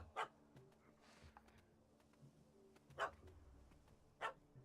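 A dog barks in The Witcher 3: Wild Hunt game world, three short separate barks spaced a second or more apart, at moderate distance over a quiet ambient game soundscape with low hum.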